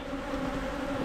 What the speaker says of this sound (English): So I'm just gonna brush the bees off